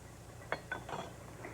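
Frozen peas are tossed into a pot in a kitchen, giving a few quick, quiet clinks and light rattles over a soft background hum, with no talking.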